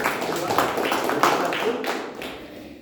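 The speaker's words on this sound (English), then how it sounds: "A big round of applause for Toastmaster." Members at a Toastmasters club meeting give a round of applause, a brief, fairly close burst of mixed claps and taps that fades slightly toward the end.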